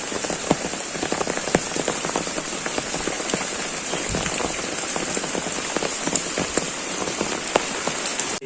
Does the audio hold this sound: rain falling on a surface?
yes